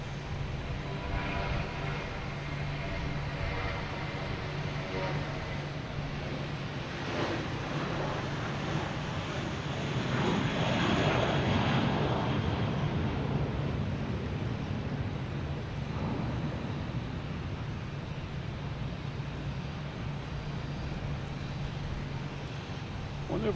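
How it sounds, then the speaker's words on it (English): A JetBlue jet airliner takes off from Boston Logan Airport, its engines producing a broad, sustained roar heard from a distance that swells in the middle and then eases. "We got a JetBlue taking off for Orlando."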